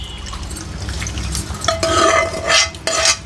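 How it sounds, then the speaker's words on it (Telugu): Oil poured into sesame seed chutney and stirred: close scraping and clinking of a spoon against a bowl with wet, mushy mixing sounds, loud and alone without talk. "ఇప్పుడు మనము ఈ నూనె అంతా ఇందులో వేసేస్తామండి"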